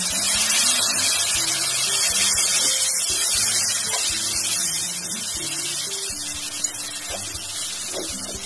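Water used to rinse the spices pours into a pan of Dhaba-style chicken curry, producing a continuous rushing splash that eases slightly toward the end, with a small clink near the close.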